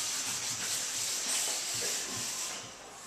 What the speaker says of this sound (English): This is 320 and I'm sanding it with right now before the final coat